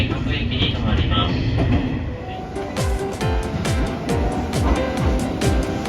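A JR Kansai Line local train pulls out of Tennōji station, its steady running rumble joined by a rhythmic series of wheel clacks over rail joints that quicken as it gathers speed.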